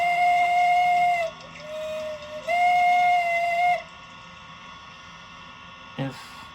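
An LGB U-type model steam locomotive's whistle, from a Zimo MS950 sound decoder, sounds in two long, steady toots, then falls silent, leaving faint mechanical hum and a brief puff near the end.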